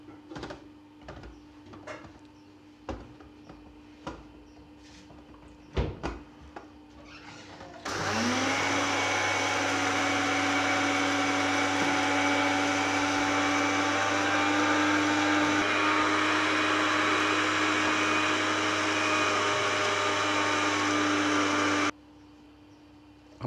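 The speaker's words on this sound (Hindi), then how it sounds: "सबसे पहले चीनी को हम ग्राइंड कर लेंगे।" An electric grinder pulverizes sugar into fine powder, starting with a few clicks and knocks, then roaring steadily and loudly for about fourteen seconds before cutting off abruptly.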